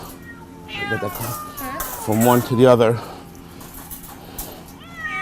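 A trapped cat meows several times, loud and strained, while being moved from a trap into a covered transfer cage during an animal-hoarding rescue, with someone talking softly over the cries.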